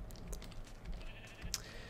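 A sheep bleats in the Minecraft video game, a short in-game call over faint keyboard typing and low room noise, with no one talking.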